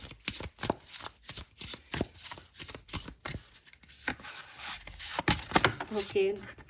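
Tarot cards shuffled by hand give a rapid series of crisp riffling flaps and slaps, steady and close, with a voice speaking briefly near the end.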